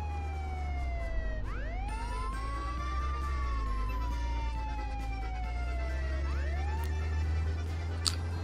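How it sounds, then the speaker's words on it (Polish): Police car sirens in the video game Contraband Police, wailing tones sweeping up and down over a steady low engine hum, with a second siren rising in briefly; no talking. "a te syreny to ja już raczej nie potrzebuję"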